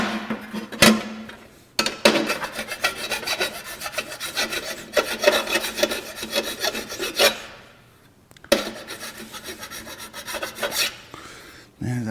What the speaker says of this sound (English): I'm just going to take and run this file all the way around this perimeter.